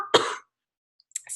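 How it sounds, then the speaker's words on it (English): A single short, harsh cough up close, followed by silence and a faint trailing breath. "Excuse me, I had a cough all day."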